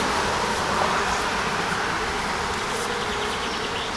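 Honey bees swarm around a wooden hive box outdoors, a dense, loud, continuous buzzing drone that fills the whole stretch without pause.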